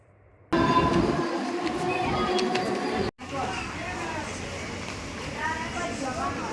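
Rumbling train noise at Dombivli station, a steady rail din with a brief cut midway, while someone talks over it close to the listener.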